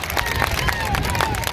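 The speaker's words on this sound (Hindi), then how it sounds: "कृपया इस बच्चे का उच्चावर्धन करें तालियों के साथ" An audience of students and teachers at a school assembly claps for a child about to give an English speech. The clapping is dense and continuous, with crowd murmur and faint tonal sounds mixed in.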